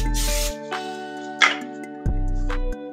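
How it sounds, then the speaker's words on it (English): Several quick hissing bursts of cooking oil spray onto a rimmed baking sheet, one long then shorter ones, over a steady humming tone in the background. "on the rim baking sheet, you're gonna spray some food lube."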